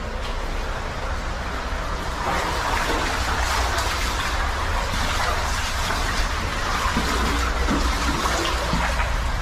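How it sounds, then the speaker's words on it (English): An underground waterfall roars inside Pettyjohn's Cave, a loud, continuous rushing wash of falling water with a deep rumbling low end, steady and unbroken throughout. "It's gotta be the waterfall."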